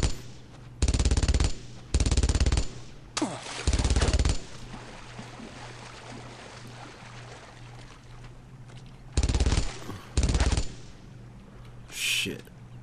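Short bursts of loud machine gun fire sound close in the WWII shooter Brothers In Arms: Road to Hill 30, arriving in five separate clusters with quieter game ambience between them.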